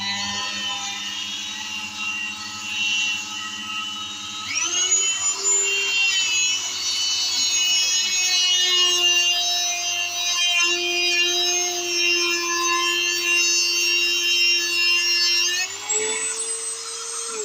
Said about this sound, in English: if I have them both turned on at the same time, then move the drill closer to the Dremel, it should cut an indent